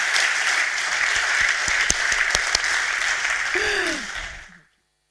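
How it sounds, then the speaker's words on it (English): Audience applause at a deep tech innovation forum pitch session: steady, dense clapping from a sizable crowd that holds evenly for about four seconds, then fades out and stops. "A round of applause for Marcel, Joschka, and Weimer."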